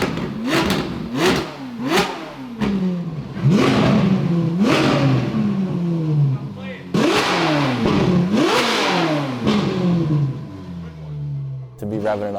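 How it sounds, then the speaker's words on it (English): Ferrari 458 V8 engine revved high repeatedly, each blip climbing sharply then falling away in a steady rhythm, loud and close with a rough idle between pulls, under some talking. "it sucks in a lot of oil when you're revving it up that high"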